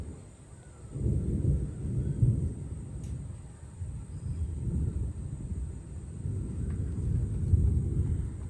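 Low thunder from an afternoon thunderstorm with fairly high winds rumbles in rolling swells for several seconds, distant and muffled, with a faint steady hum above it.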